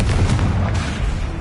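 Confringo blasting spell in Hogwarts Legacy, a short dense explosive boom with a rumbling low-end tail, loud and close, heard alone.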